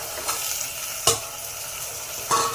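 Peas, cauliflower and potato go into a pan of sizzling pulao masala with tomato and ginger-garlic paste. A steady close frying hiss runs throughout, with a few sharp stirring scrapes and clinks and no talking.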